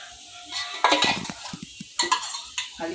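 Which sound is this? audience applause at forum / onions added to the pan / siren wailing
onions added to the pan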